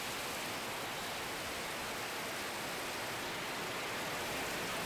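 Heavy rain with strong wind in Mira Bhayandar near Mumbai, an unseasonal storm, making a dense, continuous hiss that stays steady and loud throughout, with no voices.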